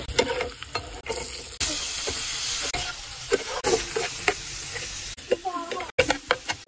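Radish with onion, chili, turmeric, coriander powder and salt frying and being stirred in a pan, a steady close sizzle broken by scraping stir strokes, with a voice talking over it.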